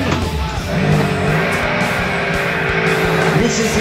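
Engine of a muscular hatchback car being driven, a steady loud drone with a sustained tonal hum and rising pitch toward the end, close and continuous.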